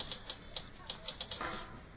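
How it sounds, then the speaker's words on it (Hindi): A manual typewriter typing out a story at home, with a quiet, uneven run of about eight separate key strikes. The clacks sound close but faint, and no one speaks. "युग के पिता ने टाइपराइटर पर कहानी टाइप करते हुए कहा।"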